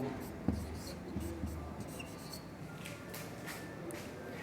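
A pen or chalk scratches quietly while the first equation of a two-variable linear equations lesson is written out, a soft continuous rubbing with faint background noise.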